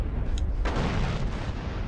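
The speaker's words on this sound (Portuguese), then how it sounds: "Nossa, que explosão foda." A bazooka rocket explosion in GTA San Andreas sets off a sharp broadband burst over a steady low game rumble, with no voices in the mix.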